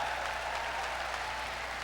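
A crowd at a professional wrestling match applauds, a dense steady wash of clapping that holds at an even level for the whole stretch with no voices standing out.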